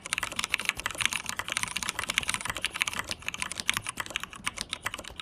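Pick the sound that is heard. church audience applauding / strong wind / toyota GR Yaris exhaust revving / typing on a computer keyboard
typing on a computer keyboard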